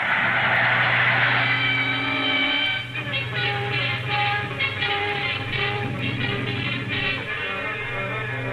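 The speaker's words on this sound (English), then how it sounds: "Here comes the train now." A train rumbles steadily with a low droning hum and rhythmic clatter of wheels, loud and close throughout with no voices.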